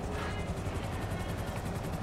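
Helicopter flying in the video game GTA V, a steady, loud rotor chop with a dense whirring drone throughout, no voices.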